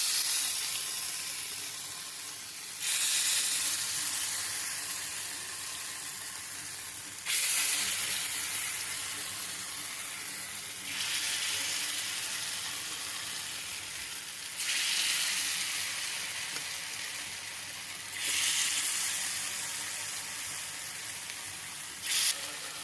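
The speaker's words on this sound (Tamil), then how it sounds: "நெய் சூடான உடனே பணியாரம் ஒன்று ஒன்றா விட்டுடலாம்." Aval appam batter spoons into hot ghee in a paniyaram pan, each drop raising a sharp burst of sizzling that settles into a steady hiss, repeating about five times at regular intervals; no talking.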